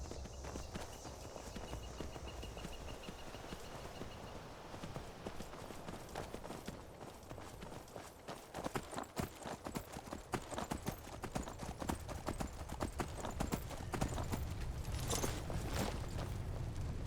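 Horse hooves clip-clopping in Skyrim, a steady walking rhythm at first that grows louder and quicker into a brisk trot over a low ambient bed, with no talking.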